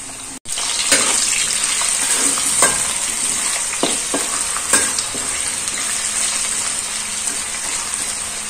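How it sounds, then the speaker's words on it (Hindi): Potato pieces sizzle in oil for sabudana khichdi, a steady, close-up frying hiss throughout, broken by repeated scrapes and clicks as a spoon stirs them in the pan. "बटाटा चांगला मऊ होईपर्यंत तेलात फ्राय करायचा।"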